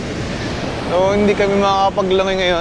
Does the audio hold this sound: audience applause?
no